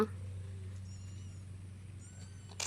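A cat on a hammock meows softly a couple of times, faint against a steady low hum in the background.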